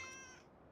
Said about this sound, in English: it's making cat noises